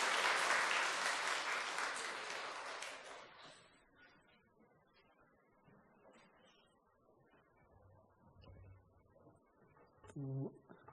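A church congregation bursts into loud applause of thanks during a Sunday worship service, the clapping dense at first and then tapering off into quiet murmurs and light rustling, with a brief voice near the end.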